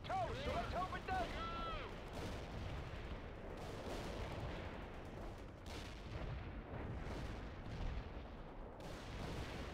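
Artillery fire and gunfire from the video game World in Conflict, with dense rumbling booms and crackling shots filling the scene continuously, mixed with radio-style voices and whistling incoming rounds early on.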